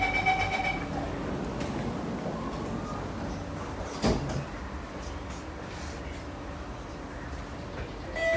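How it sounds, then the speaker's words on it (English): Doors closing on a Singapore MRT train on the North South Line, heard as a single short thud partway through, over a steady loud cabin rumble and hiss. "doors are closing."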